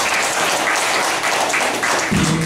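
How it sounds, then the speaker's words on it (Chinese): An audience at a philosophy lecture gives a short burst of dense, steady clapping lasting a couple of seconds. "大家给他们掌声一下"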